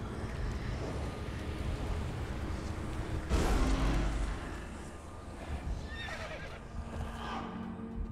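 Horse in the Conan Exiles video game, giving a clear neigh and whinny partway through over a busy ambient background with faint hoof clops and wind, fairly close and moderately loud.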